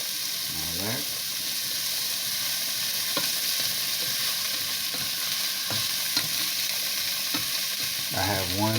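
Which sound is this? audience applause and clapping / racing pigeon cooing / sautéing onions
sautéing onions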